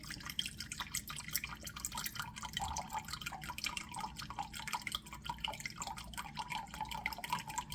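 A cup of white wine vinegar being poured, heard as a faint, steady trickle with soft dripping and splashing liquid throughout, quiet and close.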